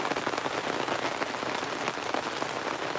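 Steady rain patters densely on surfaces outdoors at a gold sluicing setup, a continuous close hiss of drops with no voices.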